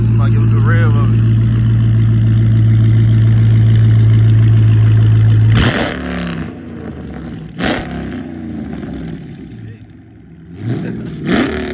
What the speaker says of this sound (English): about to give a good rev of it.